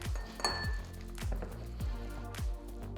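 A whisk beats keto chocolate cake batter rhythmically against a bowl, repeated clinking strokes at a steady pace, close and clear with no voices.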